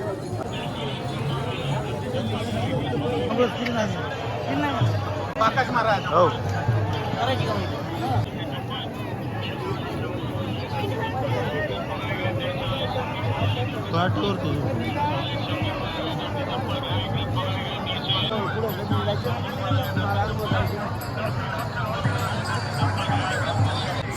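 A dense crowd of pilgrims at the Ashadhi Wari procession makes a constant babble of many voices, steady and close, with someone speaking nearby.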